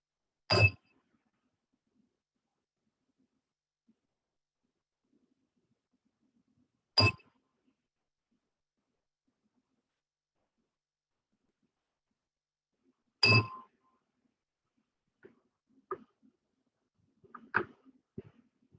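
A meditation bell is struck three times at even intervals of roughly six seconds, each strike a bright ringing tone that fades. Faint soft rustles and clicks follow after the last strike.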